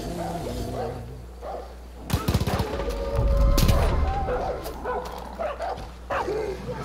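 A dog barks in the Far Cry video game, with short yips and whimpers scattered amid gunfire bursts and game noise while someone talks loudly over it.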